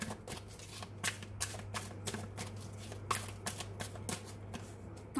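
Tarot cards riffled and shuffled close up in a quiet room, a rapid run of soft papery flutters and snaps repeating in bursts over a faint steady hum, with no talking.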